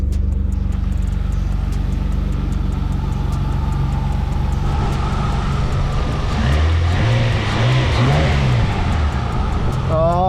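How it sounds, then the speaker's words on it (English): A Nissan Skyline R32 with a 1JZ engine running on its first startup, a loud steady rumbling idle with revs rising near the end, close up under faint voices. "the motor actually sounds pretty healthy"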